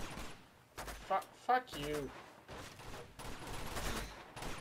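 Gunfire in the video game Uncharted 2, with several short bursts of shots over a noisy battle backdrop, mixed with a player's voice talking and swearing and a brief in-game tone sequence.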